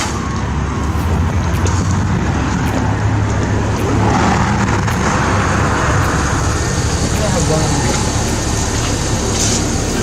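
City bus pulling up in downtown Calgary, a steady low engine rumble mixed with continuous street traffic noise, fairly loud and constant throughout with a few faint clicks.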